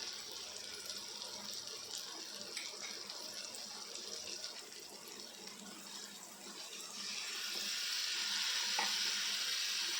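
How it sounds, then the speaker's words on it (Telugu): Water pours into a pan of simmering brinjal curry, a steady hissing splash with a bubbling sizzle that swells louder in the final few seconds, with no talking. "ఇలా ఉడికిన వంకాయల్లో 1 గ్లాస్ వాటర్ వేసి"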